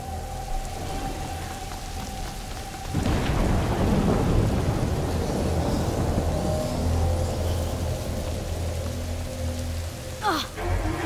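Thunderstorm with lightning in the video game A Plague Tale: Innocence: a steady rain-like hiss erupts into a loud, rolling thunder crash that rumbles on for several seconds, with a sharp crackle near the end. No one speaks.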